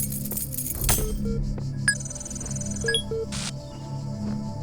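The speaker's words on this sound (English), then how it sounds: "I don't recall hearing that sound finding keys before" A chiming, glassy key pickup cue from The Talos Principle rings out with short bright tones and a higher shimmering note over a low hum of game ambience.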